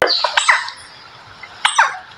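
A robust woodpecker, the largest Campephilus species of Brazil's Atlantic Forest, gives sharp, high calls close by. Two bursts of calls come early, then a pause, then a final burst, with no one talking.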